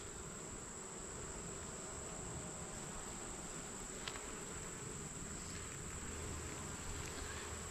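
Honey bees buzz steadily around an open hive during an August inspection, a dense continuous drone close by with no talking, holding even in level throughout.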